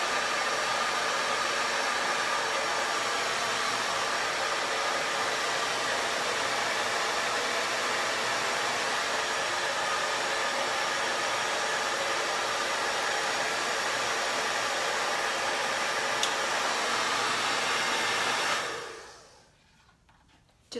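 A hair dryer fitted with a diffuser blows in a loud, steady whoosh for about eighteen seconds while drying hair, then cuts off abruptly into near silence.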